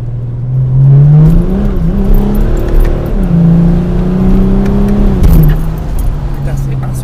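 A BMW E92 335d diesel with an automatic gearbox fault revs up toward 2000 rpm, its loud engine note rising, holding steady, then dropping back to idle, with some rattling in the cabin.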